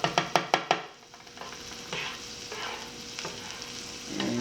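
A pan of breaded, boneless Northern pike fillets with butter: five quick knocks against the pan, then a steady, close sizzle that continues to the end.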